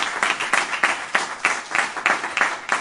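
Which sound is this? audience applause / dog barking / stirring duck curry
audience applause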